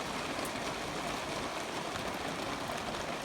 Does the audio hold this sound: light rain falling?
yes